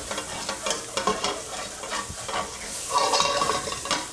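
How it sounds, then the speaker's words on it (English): Green beans, almonds and garlic sizzle loudly in a hot pan as a splash of liquid deglazes it, with steady frying crackle, a stirring spoon scraping, and a brighter burst of hissing near the end. "So I get a little liquid in there and let that help deglaze my pan a bit"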